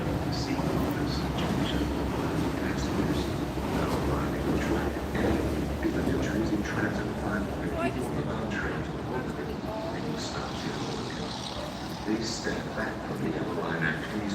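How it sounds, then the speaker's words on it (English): An Amtrak dual-mode locomotive on the Northeast Corridor pulls out of a station with a continuous, loud rumble and rolling rail noise, while voices talk faintly over it. "that's an engine leaving"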